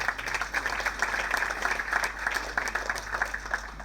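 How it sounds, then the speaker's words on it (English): Audience applause at a birthday celebration event, a steady dense wash of many hands clapping continuously throughout, fairly loud and sustained with no pauses. "Please give me a big round of applause."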